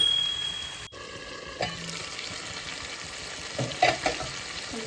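Drumstick chicken curry cooked with milk being stirred in a pan, a soft steady simmering hiss broken by a few scraping stir strokes near the end, with no voices.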